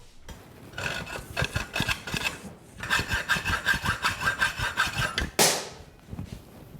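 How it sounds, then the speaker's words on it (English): A hacksaw cuts metal during a wrecked Yamaha V Star 1300 bobber rebuild, making close, rhythmic rasping strokes in two bursts separated by a short pause, then a sharp clack at the end. "Hacksaw?"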